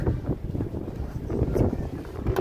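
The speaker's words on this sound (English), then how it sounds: "It's just the wind out here." Cold wind gusting outdoors on the Las Vegas Strip in daytime, a steady low rumbling buffet against the microphone that swells and fades in uneven gusts.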